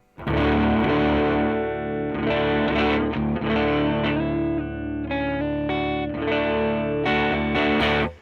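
An electric guitar runs through a Calamity Drive overdrive pedal with the guitar's volume knob rolled back slightly, giving a loud, continuous run of strummed chords and ringing notes, slightly brighter and less thick, with no voices.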